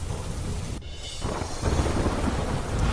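Rain falls steadily in Navsari while thunder rumbles low, a brief dip in the downpour giving way to heavier, louder rain and deep rolling booms.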